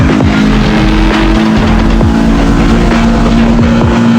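Car engine droning steadily in the CarX Street mobile racing game, a loud continuous hum with a sustained tone and rhythmic thumps, alone without talk.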